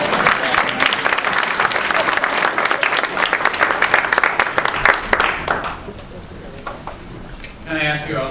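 Audience at an equity forum on creative placemaking gives a round of applause, a dense sustained burst of many hands that thins out after about six seconds into scattered claps, followed by a voice.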